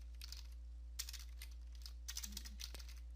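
Clicky keystrokes on a computer keyboard as a command is typed, short bursts of taps separated by brief pauses, close and fairly quiet over a steady low hum.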